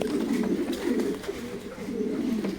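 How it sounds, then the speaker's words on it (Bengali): Pigeons, including German Copper birds such as a black tiger cock and a blue bar hen, coo steadily at a fancy pigeon farm in Durgapur, Rajshahi. The low rolling coos overlap and continue without pause, close and moderately loud, with no talk. "এইটা কি জাতের কবুতর এটাও জার্মান কোপার"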